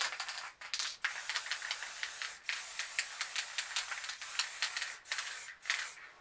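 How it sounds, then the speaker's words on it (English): Spray paint can hissing night blue paint in short light bursts around a lid stencil on a planet design, a steady close hiss broken by brief pauses and quick repeated puffs. "Just spray a bit light around this lid stencil so you get no leaking underneath"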